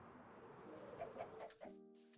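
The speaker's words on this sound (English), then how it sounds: "There's a chicken." Chicken clucking in a Viking-era video game, a few short clucks and squawks heard fairly close over a steady background ambience, ending with a brief tonal in-game sound.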